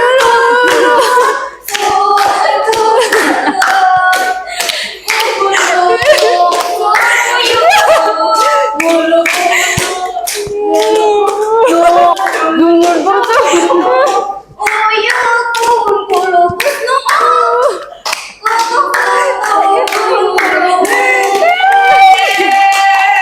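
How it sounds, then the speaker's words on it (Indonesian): Children clapping hands together in a classroom, many small hands giving quick, uneven bursts of claps mixed with young voices singing along, loud and close, with a few short pauses. "Tepuk tangan ya teman-teman."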